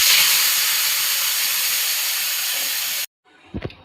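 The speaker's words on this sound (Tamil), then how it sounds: "இப்போ இதை நம்ம அரைச்சி வச்ச விழுதை ஊற்றிக்கலாம்." Ground masala paste poured into hot oil tempered with cumin, for masala puri, sends up a loud, steady hissing sizzle for about three seconds. It then cuts off abruptly, followed by faint clinks.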